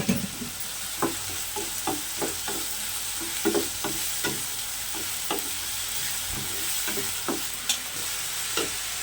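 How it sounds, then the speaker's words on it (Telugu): Onions sprinkled with salt fry in hot oil, a steady close sizzle broken by regular scraping and stirring knocks from a spoon against the pan. "ఆయిల్ కాగిన తర్వాత ఉల్లిపాయలు వేసుకోవాలి. వేగడానికి కొంచెం సాల్ట్ వేసుకోవాలి."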